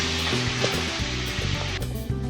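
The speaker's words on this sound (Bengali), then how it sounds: "চলছে ভাজা ধনে পাতার বড়া" Coriander leaf fritters fry in hot oil with a steady, close sizzle that runs throughout, over soft tonal, music-like sounds underneath.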